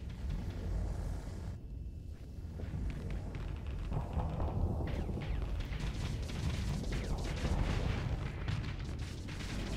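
Big ship guns fire in the StarSector space game, a loud, continuous barrage of booming blasts and rumbling impacts layered over mechanical clatter with no letup.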